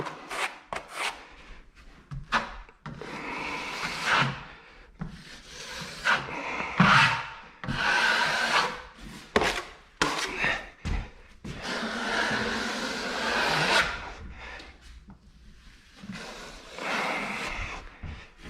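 Drywall knife scraping and smoothing joint compound mud along a mobile home wall joint, a series of rasping, rubbing strokes with brief pauses between them, close and fairly loud.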